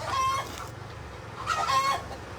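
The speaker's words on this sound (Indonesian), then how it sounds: "Lempar itu ayam, lempar, ribut." A chicken clucks and squawks nearby in two loud, agitated bursts separated by a short pause, with quiet background noise and no voices.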